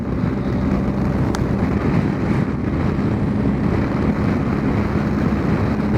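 A BMW R1250GS motorcycle engine running while riding, a steady low drone heavily mixed with wind rush across the microphone, holding even loudness throughout with no talking.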